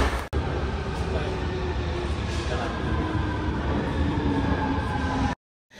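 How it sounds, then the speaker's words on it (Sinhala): A metro train pulls into a station with a steady, loud rumble and broad roar that holds for about five seconds before cutting off, with no talk over it. "ඉතින් ළමයි දැන් ඔන්න මෙට්‍රෝ එක ආවා."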